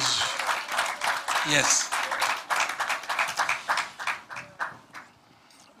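A church congregation at a French-language evangelical service applauds, a lively burst of clapping that thins into scattered claps and fades out, with a voice briefly speaking over it.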